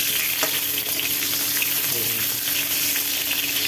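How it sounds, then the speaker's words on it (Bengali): Eggplant pieces fry in hot oil for shukto, giving a steady, close sizzle with occasional spoon scrapes and knocks as they are turned in the pan. "বেগুনটা মোটামুটি একটু ভেজে তুলে নেওয়া হবে। নেড়ে চেড়ে"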